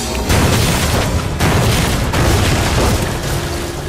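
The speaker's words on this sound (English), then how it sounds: "The superheated keg exploded" Dramatized explosion of a superheated aluminum beer keg: a loud, dense booming roar filling the whole moment, with a few brief dips and renewed bursts.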